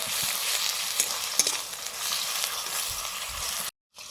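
Garlic and ginger spice paste sizzles loudly in a pan with a splash of water while chicken biryani is cooked. A steady close frying hiss carries a few stirring knocks and cuts off abruptly near the end.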